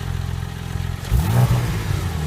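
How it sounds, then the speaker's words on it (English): Porsche 911 Turbo exhaust idling low, then given a short throttle blip that swells and falls away within a second, heard close and without talk. "you can hear that the exhaust. Yeah, give it a little a little blip."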